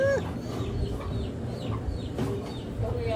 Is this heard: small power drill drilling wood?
no